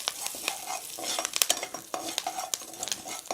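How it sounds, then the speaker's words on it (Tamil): Sesame seeds and urad dal roasting in a pan, crackling and popping with a steady sizzle, stirred now and then with a scraping utensil; close and fairly soft, no voices. "இந்த பாருங்கள், எள்ளு அதுக்குள்ளேயே பொரிஞ்சிடுத்து"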